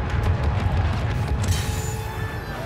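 A walker being destroyed in the Star Wars Battlefront 2 video game sends out a deep, rumbling blast that rolls on steadily for a few seconds, loud and close, with low booms and a gritty crackle on top.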